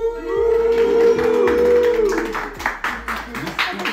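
An audience claps to welcome a guest. A sustained tonal voice or music holds first, then loose, uneven applause rises over the second half, mixed with people talking.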